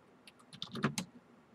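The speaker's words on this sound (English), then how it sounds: "Now I'm typing in UFC free fight" Quiet, close tapping on a computer keyboard, a short irregular burst of a handful of key clicks that cluster and quicken in the middle before trailing off.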